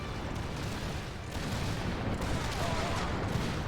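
Musket volleys from the Lucium: Total War video game, a continuous rolling crackle of massed gunfire and distant booms, steady and fairly loud throughout, with a faint voice underneath.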